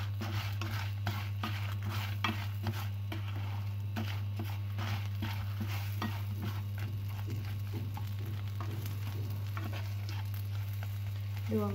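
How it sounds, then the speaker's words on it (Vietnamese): Shrimp stir-fried with sugar in a pan for a lemongrass and shallot dish, giving a steady low sizzle with scattered scraping and tapping of the utensil against the pan, alone without talk. "Khi mà các bạn cho đường vào thì các bạn đảo cho mình 2 phút để cho đường tan."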